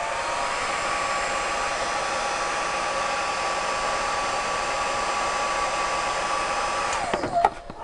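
A heat tool blows steadily with a constant whooshing hum as it warms a patch on a mermaid tail so it seals, running alone at close range for about seven seconds before cutting off with a few brief handling clicks.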